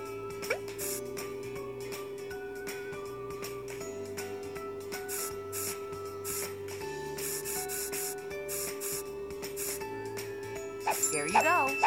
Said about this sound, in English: And now some serious rubbing.